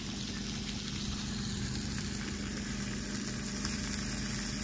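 Food sizzling on a Blackstone griddle outdoors, a steady crackling hiss over a low hum, close and even throughout with no talk.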